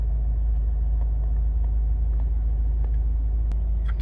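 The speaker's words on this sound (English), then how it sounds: "engine's running through this section as always" A Honda CR-V 1.6 i-DTEC diesel idles with a steady, low, even rumble that holds constant throughout, with a few faint clicks and ticks over the top.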